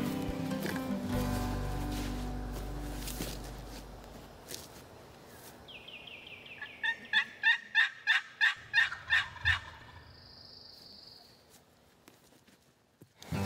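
Wild turkey gobbling in the open after a box call, with a quick series of rhythmic rasping clucks from the call and a distant gobble, all fairly faint against wind noise.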